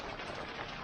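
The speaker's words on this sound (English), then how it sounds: "Hope the rain's not too heavy, you can't hear me" Steady rain falls outdoors during a Lambretta GP scooter rear brake shoe fitting, a dense, even hiss of drops on surfaces filling the whole moment with no voice over it.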